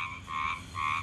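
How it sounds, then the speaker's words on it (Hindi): Large frogs croaking loudly in a pulsing chorus, two swelling waves of rough calls close by, with no voices. "भाई, कितनी तेज आवाज आ रही है मेंढकों की।"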